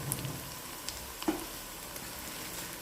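Mash daal and goat meat roast in a pan, giving a quiet, steady frying hiss with a few soft clicks and one brief scrape or stir near the middle. No voices.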